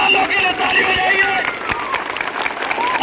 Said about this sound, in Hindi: हमारा जवान लोग के लिए ताली बजाइए